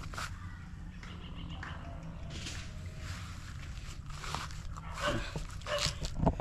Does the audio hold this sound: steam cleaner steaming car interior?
no